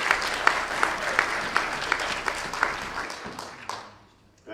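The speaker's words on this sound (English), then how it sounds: "give him a round of applause" Applause from a political club meeting audience, a dense patter of clapping with a few sharper claps standing out, holding steady before tapering off and fading near the end.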